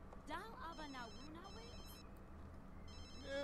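A phone rings in The Sims 3, its electronic ringtone trilling in short repeated bursts, faint and low in the mix beneath character voices and background game sounds.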